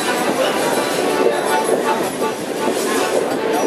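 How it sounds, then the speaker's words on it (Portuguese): Train on the Guararema line heading toward Sabaúna, hauled by locomotive C37A-7202 with a caboose, a steady loud rumbling roar of rolling cars heard from close by, continuous with no distinct clacks. "Temos também um vagão Cabuse e temos também a locomotiva C37A-7202 com trale quintela."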